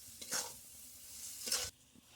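Mango pickle being stirred with salt and sugar in a pan, two short scraping, sizzling strokes close by with a quiet pause between them.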